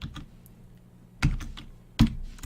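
Typing on a computer keyboard during a basic LED coding lesson, scattered clicks with two louder key strikes, close up and with no talk.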